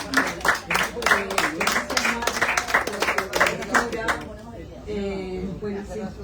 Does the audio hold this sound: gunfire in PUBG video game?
no